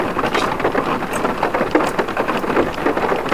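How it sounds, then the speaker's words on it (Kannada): Heavy rain pours down during a road trip in South Goa, a loud, dense and continuous patter of drops hitting surfaces close by, with no one speaking. "ಹಂಗಿದ್ರೆ ಈ ಮಳೆ ನಿಲ್ಲೋದು ಡೌಟು."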